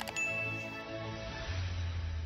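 A quiet notification bell jingle sound effect opens with a bright, short ding. Its ringing tone fades over about two seconds, with no voices.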